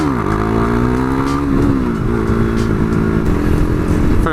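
A KTM 390 Duke single-cylinder engine revs loud and close, its pitch climbing and dipping across several throttle blips with a steady rough drone underneath and no talk.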